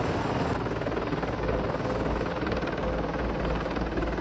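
An AH-64 Apache attack helicopter's steady, loud rotor drone with a continuous rumbling thrum throughout, no voices.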